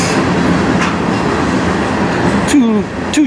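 A CN freight train led by a BC Rail heritage-painted locomotive, with a Union Pacific unit trailing, rolls past on the Strathroy Subdivision in Sarnia, Ontario, as a loud, steady rumble; a voice briefly speaks near the end.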